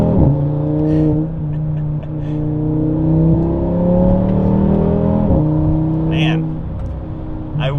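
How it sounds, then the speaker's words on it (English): An Audi RS3 fitted with an RS Performance exhaust revs and accelerates, its deep engine tone rising and falling through several pulls, loud and close, with a voice talking over it. "Wake up that exhaust."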